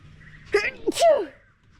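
A single sneeze at a riverside campsite on the Murray River in Victoria, a sharp two-part burst near the mic with voices around it.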